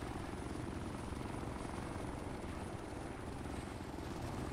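Heavy, constant beating of helicopter blades fills a military video game scene, close and loud, a thick low rhythmic drone with no talk.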